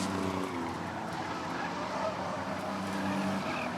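Race cars in an Original Sixers heat at Rockford Speedway roar steadily on the track, a dense distant engine drone with a faint tonal whine and no clear gaps.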